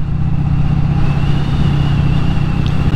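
A Vincent Rapide classic British motorcycle is ridden, its engine a loud, steady low throbbing drone with a constant rumbling pulse and rushing wind, close and unbroken with no talking.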